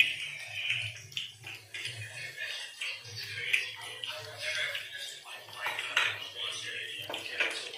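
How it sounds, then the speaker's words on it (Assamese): Repeated metallic clinks and scrapes of a ladle turning potato-onion pakoras frying in a pan, steady and close, with low background hum throughout. "মই শলাডাল দি পেলাই মই পকৰীখিনি লুটিয়াই লৈছোঁ"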